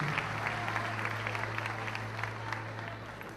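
A church congregation applauds as people take their seats, a steady wash of clapping at moderate distance over a low hum from the sound system.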